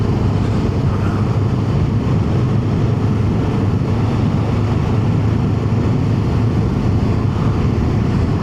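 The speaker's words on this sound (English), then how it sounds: "It sets off with the electric motor, and then the ICE engine comes in." Kawasaki Ninja 7 HEV hybrid motorcycle riding, setting off on its electric motor before the combustion engine joins in; a loud, steady engine drone blends with rushing wind noise throughout, with no talking.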